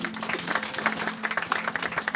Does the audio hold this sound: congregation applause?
yes